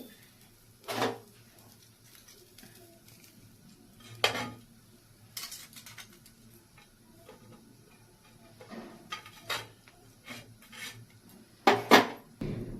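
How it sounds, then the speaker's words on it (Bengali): A few sharp clinks and knocks of a bowl being set into the middle of a metal pan holding tandoori chicken, spaced out over a quiet kitchen background. "মাঝখানে আমি একটা বাটি বসিয়ে দেব"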